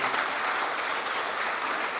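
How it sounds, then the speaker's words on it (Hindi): Audience at a school alumni meet applauding for the children, a continuous, even burst of many hands clapping close by, with no speech over it. "एक बार तालियां बच्चों के लिए होनी चाहिए।"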